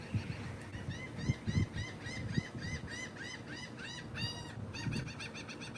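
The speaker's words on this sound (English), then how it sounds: "Did you hear the birds? That's a Florida bird." Loud, repeated honking calls of geese or similar large birds ring out outdoors in Florida, a steady series of nasal honks over a busy background rumble, some bursts overlapping.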